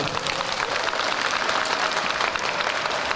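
A crowd claps steadily and densely, a full round of applause that stays even in loudness throughout, at the opening ceremony of a disability organizations' festival in Bucheon.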